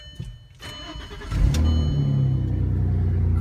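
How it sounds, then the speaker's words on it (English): A manual car engine cranks briefly and catches, then settles into a steady, close, low idle with a continuous rumble and no voices. "Car is started, no immobilizer light."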